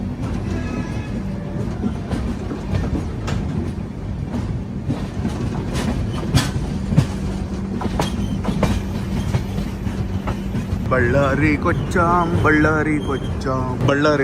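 A Secunderabad to Goa express runs on its rails with a steady loud rumble and rhythmic wheel clatter, while a voice continues over the track noise.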